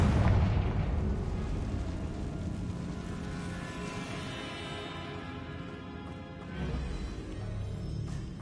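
A blasting spell explosion in Hogwarts Legacy, the fantasy video game, a heavy booming blast that rolls into a long, steady low rumble and roar, with a smaller swell near the end and no one speaking.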